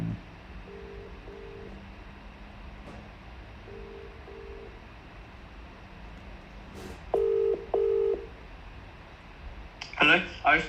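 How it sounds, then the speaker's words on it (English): Telephone call being placed in a Minecraft server game: two short paired dial tones repeat early, then louder tone bursts at about seven and eight seconds, under quiet background with speech starting at the end. "I'm going to get Raga on the phone because he's not very responsive"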